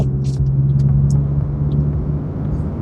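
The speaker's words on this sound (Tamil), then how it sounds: "இப்போ வந்து இந்த வெஹிக்கிளை வந்து ஒரு ஃபுல்லோட பார்ப்போம்." Custom-built Honda City car pulling hard at full throttle, heard from inside: a loud, close engine drone and road rumble holding steady through the brief moment.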